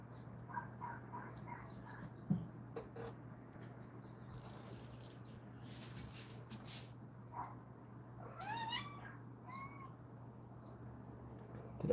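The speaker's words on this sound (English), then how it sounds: "Did everybody just hear my cat?" A pet cat gives several clear meows and a longer wavering caterwaul, close and fairly loud over a quiet room with a steady low hum and a few small knocks.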